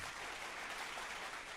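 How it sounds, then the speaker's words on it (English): Studio audience applause as a guest walks off a radio talk show set, a steady wash of clapping at low level throughout with no talking over it. "We'll give him a round of applause as he walks out."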